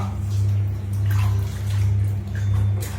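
A child is bathed at home as water splashes and runs into a tub in a steady rushing wash with a low rumble, close and fairly loud, with faint voices underneath.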